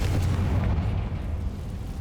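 A Confringo spell blast in the Hogwarts Legacy video game booms out as a dense, low rumbling explosion, loud and continuous, filling the whole moment before slowly easing off.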